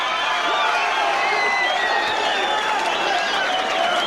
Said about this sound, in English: Reinhardt Badato in this capacity crowd elated.